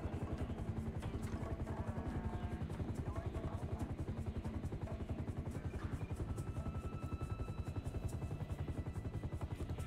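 A helicopter in GTA 5 gives off a steady, fast rotor chop that beats rhythmically the whole way through at a low, even level, with engine drone underneath and faint talking in the background.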